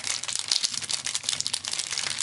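Close, continuous crinkling of a plastic package from a craft mail swap as it is handled and opened, with dense crackly rustling and no speech.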